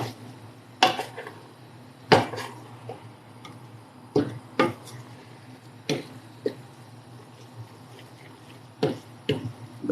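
Spoon scraping and knocking against a pot of Ayamase stew at intervals of a second or two, sharp clinks over a low steady hiss of cooking, close and moderately loud with no talk.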